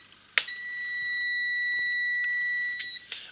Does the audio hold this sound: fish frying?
no